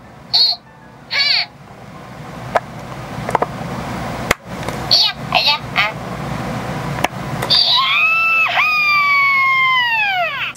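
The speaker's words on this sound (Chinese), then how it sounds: "它也就会发出兔兔的声音" A SEGA Chiikawa Usagi dorayaki bed toy plays short high-pitched character cries and squeaks in separate bursts, ending with a longer warbling electronic call, with clicks from handling between them.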